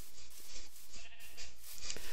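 Sheep in the Minecraft video game bleat in a few short repeated calls over a soft background, moderately loud and without talk.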